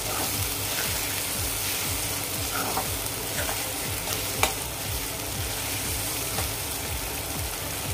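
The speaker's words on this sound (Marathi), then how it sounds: "आता याला व्यवस्थित तेल सुटेपर्यंत आपण हे परतून घेऊया." Masala paste sautéing in oil for Kolhapuri chicken, a steady close sizzle and crackle in the pan with a few sharp pops and stirring scrapes, no voices.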